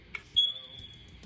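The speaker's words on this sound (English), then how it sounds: "press and hold the test button to squeeze all the power out of the smoke detector" An old household smoke detector, its test button held down, gives one sustained high-pitched electronic beep that rings for about a second in a quiet room.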